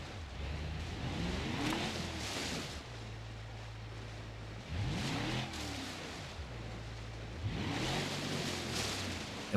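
An off-road vehicle in a video game grinds through terrain in four-wheel drive, its engine droning continuously and loudly with repeated surging revs that rise and fall in waves, no voices over it.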